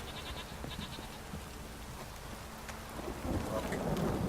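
Steady rain with a low rumble of thunder in The Witcher 3: Wild Hunt, set in Velen, holding as a constant wash that swells a little louder toward the end, with no voices over it.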